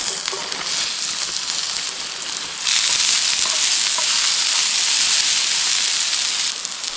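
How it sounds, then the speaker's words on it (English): Onions hitting hot olive oil in a camp pan outdoors, a bright, loud sizzle that jumps sharply louder partway through and holds steady, with no voices. "put a little olive oil into the pan. And I'm gonna add my onions first"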